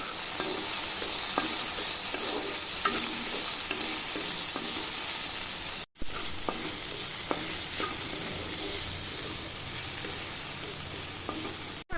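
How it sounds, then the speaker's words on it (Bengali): Sabudana frying in ghee in a kadai, a steady close sizzle with stirring clinks and scrapes throughout, briefly cut once midway. "এর মধ্যে যে সাবুদানাটা রেখেছিলাম এইটা এবার ফ্রাই করে নেব।"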